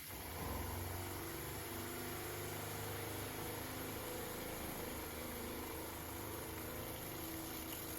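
A 2020 Thor Tellaro 20AT RV's water pump runs steadily, pushing pink antifreeze through a faucet during winterization: a constant whirring hum with watery hiss, close and unchanging throughout.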